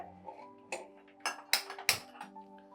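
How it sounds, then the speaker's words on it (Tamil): A thick kadai pan is set down on a kitchen stove, giving several sharp metallic clanks and rattles in quick succession, close and fairly quiet, with a low background hum. "நல்லா கொஞ்சம் திக்கான ஒரு கடாயை எடுத்து அடுப்பில் வச்சுக்கோங்க"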